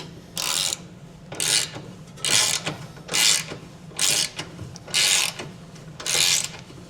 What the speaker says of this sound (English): we're going to take an 18mm socket and a ratchet and just get those snug down